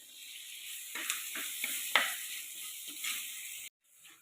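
Tomato and green chilli sizzle and crackle in an oiled pan, close and fairly quiet, with a few scrapes of stirring before the sound cuts off near the end.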